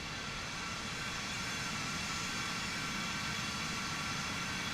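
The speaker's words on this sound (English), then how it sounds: "Did they change the engine sounds? That sounds a little different." Steady, muffled jet engine roar from an MD-11 airliner in Microsoft Flight Simulator 2024, a constant even drone filling the whole clip with no talk over it.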